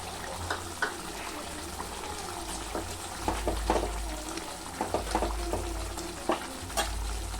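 Tomato pieces cooking in curd with no water added, giving a steady low bubbling simmer with soft popping and scattered light stirring clicks, close and moderately quiet with no talk.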